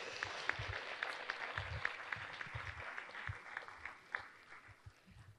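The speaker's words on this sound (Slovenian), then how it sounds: "aplavz." Audience at a conference applauds steadily, a dense patter of many hands clapping through the whole stretch, moderately loud and without speech.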